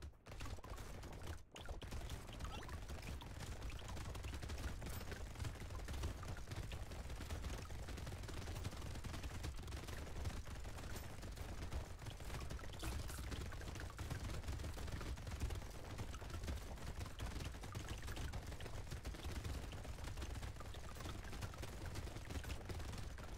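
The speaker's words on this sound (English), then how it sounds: "Look at my 2 turrets dealing 44 damage every time they shoot." Rapid game gunfire from two automated turrets in the video game Brotato, a dense continuous rattle of shots at steady loudness throughout, with no speech.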